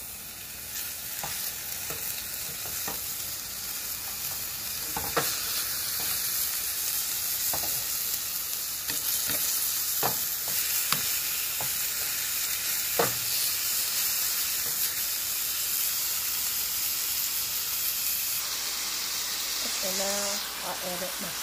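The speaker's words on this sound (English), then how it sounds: "I'm gonna brown the ground beef." Ground beef browns in a hot pan with a continuous broad sizzle and hiss, broken by scattered clicks and scrapes of stirring. The sizzle stays loud throughout and shifts near the end.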